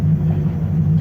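A V8 car engine runs steadily in second gear, a continuous low rumbling drone held at a constant level with no revving, heard close and alone.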